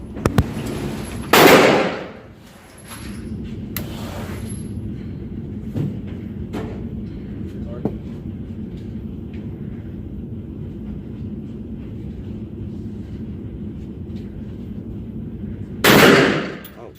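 Two sharp, loud gunshots from a Kel-Tec gun at a shooting range, one near the start and one at the end, with a lower, quieter crack between them over a steady low background hum.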